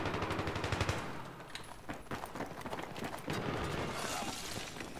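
Rapid sustained automatic fire from an L86A2 light machine gun in the video game Battlefield 3, a loud, dense rattle of shots that runs nearly without pause throughout.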